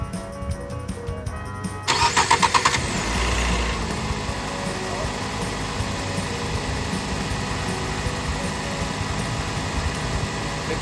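A 2009 Nissan Versa with an intermittent no-start fault cranks briefly and catches, settling into a steady idle that runs on nearby with no talking over it.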